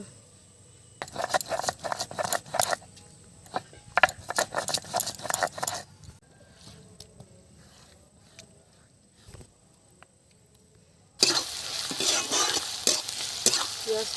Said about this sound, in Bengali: এখন একটু ভাজা হবে